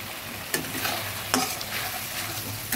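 Tengra fish curry with soft-cooked tomato sizzles steadily in a pan while a spoon stirs it in a few distinct scraping strokes, close and moderately loud, with no talking.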